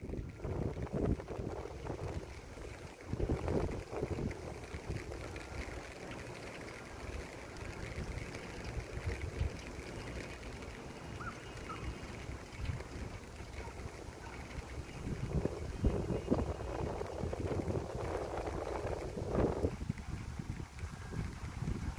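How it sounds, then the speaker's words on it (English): Outdoor wind on a sunny day with light sprinkling rain buffets the microphone in low rumbling gusts, swelling and easing over a steady airy background with no talk. "It's windy."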